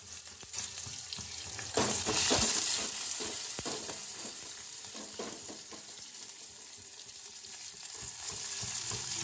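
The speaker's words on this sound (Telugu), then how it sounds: "ఆవాలు వేసుకోవాలండి జీలకర్ర ఆవాలు వేసాక అది కొంచెం ఎర్ర కాగానే ఉల్లిపాయలు పచ్చిమిర్చి" Onions with green and dried chillies frying in hot oil with mustard seeds and cumin for a tomato rasam, a steady close sizzle with occasional spatula stirs, stronger in the first half and alone without talk.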